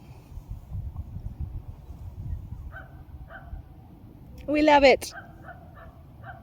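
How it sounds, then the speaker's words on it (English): A dog gives a brief yelping, whimpering burst partway through, close by and fairly loud, while a person talks quietly indoors. "so here's a dog"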